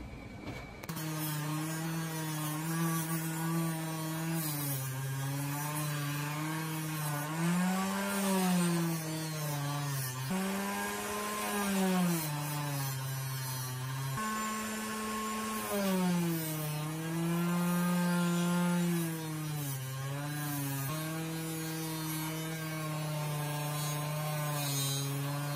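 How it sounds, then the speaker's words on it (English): Power sander working on the handles of a Camillus pocketknife, a steady motor whine that rises and falls in pitch as pressure changes, running loud and continuous throughout with no talking. "I'm gonna sand the handles down a little bit just to get that grime off of it"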